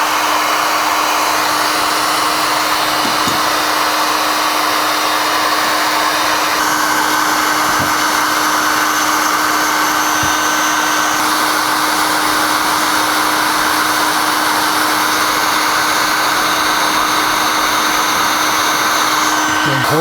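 A hot air gun heats cured epoxy resin overpour drips, giving a steady, loud, unbroken blowing whoosh with a constant motor hum for the full length and no talk.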